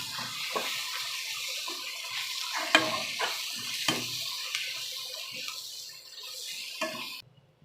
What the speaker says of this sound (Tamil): கிளறி கொடுத்துடலாம்